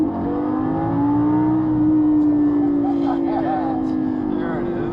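A Lamborghini driven in sport mode gives a steady, loud engine drone as it accelerates, heard from inside the cabin, with faint voices now and then.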